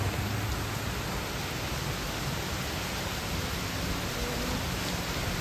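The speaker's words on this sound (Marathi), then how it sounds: "चांगला जोराचाच पाऊस सुरू आहे बाहेर." Heavy rain falls steadily outside, a dense, even hiss that holds at constant strength throughout with no voices over it.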